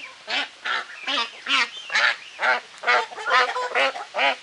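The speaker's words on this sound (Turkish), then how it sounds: "bir dişi ördek" A female duck quacks repeatedly in a steady series of loud, nasal calls, close by, with no talking over them.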